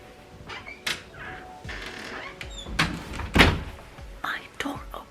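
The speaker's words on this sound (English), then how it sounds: "My door opened by itself." A room door opens on its own with a dull thunk and a brief sliding rattle, close by, amid soft whispery talk and scattered knocks.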